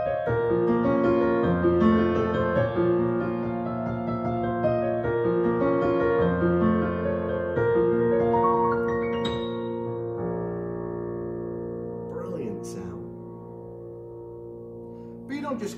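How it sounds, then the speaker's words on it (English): European Grand piano voice on a Roland LX708 digital piano, played alone as a flowing passage of chords and melody with sustained ringing notes, fairly loud and close, easing to softer held tones toward the end. "So let's start with the European Grand,"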